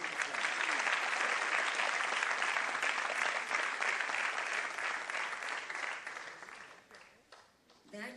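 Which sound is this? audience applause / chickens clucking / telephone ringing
audience applause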